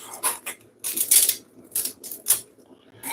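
A knife cuts through hard callaloo stems in a home kitchen, giving a handful of crisp, snapping chops spaced irregularly over a few seconds, close and fairly loud with no talking.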